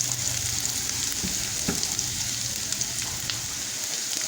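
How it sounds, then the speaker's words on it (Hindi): Onions lightly sautéing in a pan for chicken bread samosa filling, a steady close sizzle with faint occasional stirring taps throughout. "हल्का सा बस सौते करेंगे, फ्राई नहीं करेंगे।"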